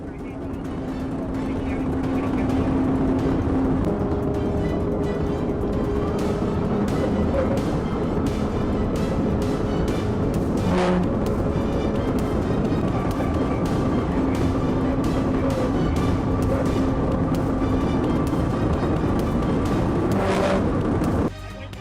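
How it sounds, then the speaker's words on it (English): A car speeding at nearly 114 miles per hour in a police chase gives a loud, continuous roar of engine and road noise, with brief tonal whines and a voice talking over it. "suspect's vehicle sped down the roadway at nearly 114 miles per hour, weaving through restricted areas"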